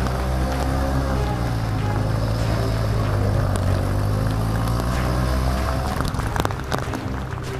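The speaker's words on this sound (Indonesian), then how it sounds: "Derungan motor kami saling bersahutan satu sama lain, namun tak membuahkan hasil" Motorbike engines strain and rev on a muddy footpath to a village near Entikong, a loud continuous droning whine that rises and falls in pitch, with sharper clattering bursts toward the end.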